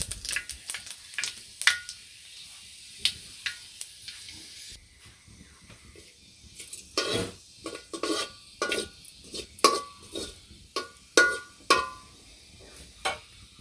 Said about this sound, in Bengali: এই যে শুকনো মরিচ আর তেজপাতাটা একটু লাল লাল হয়ে গেলে এই যে ফোড়নটা দিয়ে দিলাম